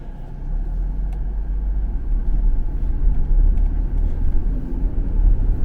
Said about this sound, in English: Okay, let's go for a bit of a test drive.